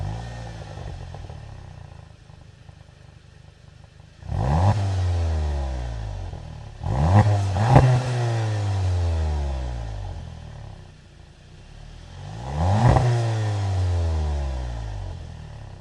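A 2025 Volkswagen Jetta GLI's engine revs three times through its dual exposed exhaust outlets, each burst rising sharply and falling back to a low idle. The car is close and loud, with no talk.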